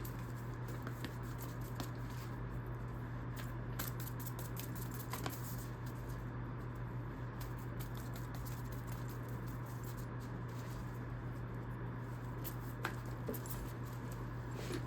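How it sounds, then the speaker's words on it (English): Cards being pulled out and handled for a rune reading: soft, irregular shuffling and light pattering clicks over a steady low hum, with no voices. "let's get some cards out, some more cards out"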